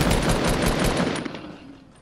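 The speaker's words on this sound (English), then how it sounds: "I just killed him with a sniper for point blank." Rapid, loud gunfire bursts in Fortnite, given as sniper rifle shots, crack in a quick series of close reports for about a second before fading into a decaying tail.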